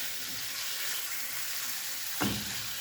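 Goat liver for kaleji masala frying on slow heat, a faint continuous sizzle with one brief stir or clatter near the end and no speech.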